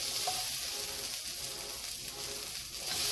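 Onions, sundried tomatoes and shallots with pancetta sizzle steadily in a pan, an even, close frying hiss that holds at the same level throughout with no voices.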